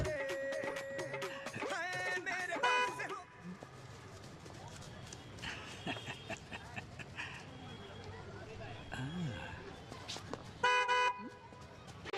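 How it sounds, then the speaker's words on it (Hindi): A car horn blares in a cluster of rapid honks, then goes quiet under background noise before another short burst of honking near the end. "रोड पे गाड़ी तो दिख नहीं रही, खामखा हॉर्न क्यों बजा रहे हो?"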